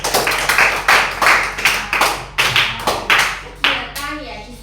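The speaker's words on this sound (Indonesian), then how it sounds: "Tepuk tangan ya untuk Vino ya." Children in a classroom clap together in a series of quick bursts, roughly one wave each half-second over several seconds, close and fairly loud, with a voice briefly audible near the end.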